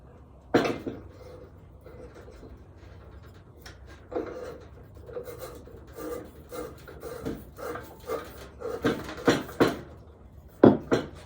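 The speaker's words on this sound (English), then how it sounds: "And then I'll go ahead and screw a bottle onto it." A propane bottle being screwed by hand onto the knurled fitting of an old Coleman stove, with close scraping and rubbing twists that grow into several sharper clicks and knocks near the end.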